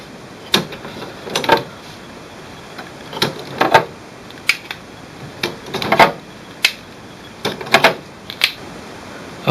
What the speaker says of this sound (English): You may want to remove the used cartridges